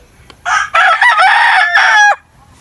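A gray-line gamefowl rooster crows once, loud and close, in a long raspy call held for over a second. The farmyard is quiet around it.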